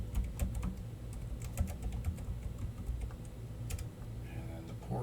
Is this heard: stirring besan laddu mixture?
no